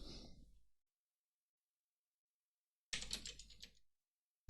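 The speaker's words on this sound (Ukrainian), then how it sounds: "двічі клацаю і пишу прибуток" Computer keyboard typing while a chart title is entered, in two short clattering bursts separated by a long silent pause.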